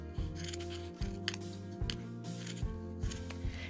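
Scissors snipping around a cardboard circle for making a pompom, a steady series of close, crisp cuts with short pauses between strokes, no voices.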